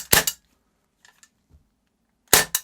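Walther PPQ M2 CO2 pellet pistol fired double action, two sharp close cracks with a quiet pause between, each crack followed by a quick secondary snap.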